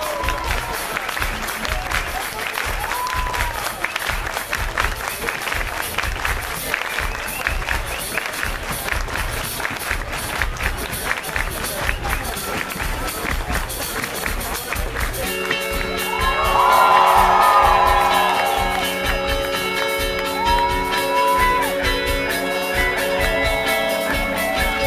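A concert crowd at a casino venue applauds and cheers, the noise broad and far-off, with whoops and shouts rising midway as instruments and a voice join in.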